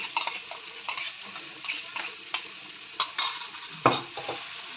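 A spatula stirs tomato thecha, a crushed chilli relish, into softened tomatoes in a pan, making a close, rhythmic series of scrapes and clicks over a low sizzle.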